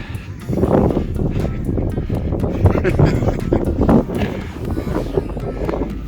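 Gusty wind buffets the microphone with a low, rumbling roar in a whiteout on a Scottish mountain summit, while muffled voices come and go underneath.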